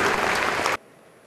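A lecture audience at Jakarta Marketing Week 2013 claps in a brief dense burst of applause that stops suddenly, leaving near silence.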